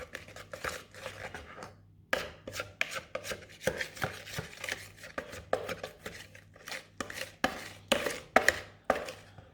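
Chocolate cake batter with flour mixed in a bowl, heard as a close series of irregular scraping and tapping strokes, bursts of rhythmic knocks with short pauses between them.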